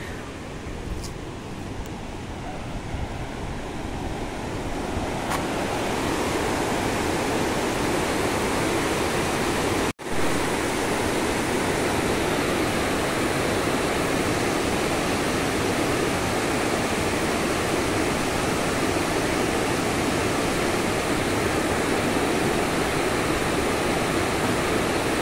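Heavy water flowing and rushing at the Statue of Unity viewpoint, a loud, steady broadband roar like a waterfall, nearby and continuous with a brief dropout midway, no talk heard.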